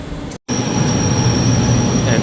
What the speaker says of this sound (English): And this should be our train, so let's hop on and see how it goes.